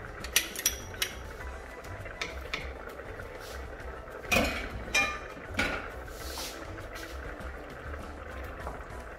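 Beef stroganoff ingredients stirred in a pan with a utensil, giving intermittent clinks and scrapes against the metal over a soft simmering bed, with a few louder knocks midway.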